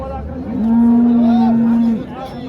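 A cow at a village cattle market in Vadod gives one long, loud, steady moo lasting over a second, with faint market murmur around it and no speech.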